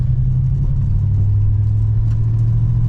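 A 1966 Pontiac Grand Prix barn find drives under load with a loud, steady low engine rumble heard from inside the car.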